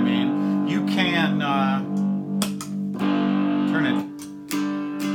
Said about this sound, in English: If you don't like the fact that I play this with distortion